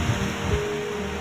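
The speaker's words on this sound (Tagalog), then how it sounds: "napapadpad ako ng hangin" Strong wind roars with waves washing during a storm at a coastal calamity: a brief, steady, noisy rush, close and moderately loud, with no voices.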